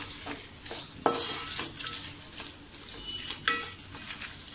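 Fried onion being stirred into prawn biryani masala in a pan, a soft sizzle under repeated scraping strokes of a spoon, with a couple of sharper clinks.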